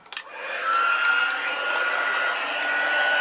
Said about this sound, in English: grab your heat tool and melt it